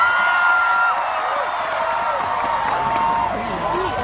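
A live concert audience in Kuala Lumpur cheers and screams continuously in a dense crowd roar, with a few voices rising above it and a bright sustained tone running through the first part.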